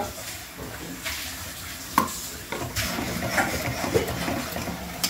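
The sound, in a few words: spices being sautéed over high gas flame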